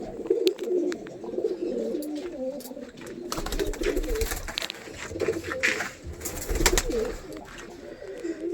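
Pigeons for sale at a home loft in Andhra coo repeatedly, a steady layered warbling of several birds close by, with some rustling and thumps toward the middle and end.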